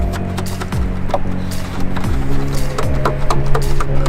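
Carbon side skirt extension being tapped into place on a BMW M4 outdoors, a series of sharp knocks and thwacks spaced irregularly, close and fairly loud over steady background noise, with no talk.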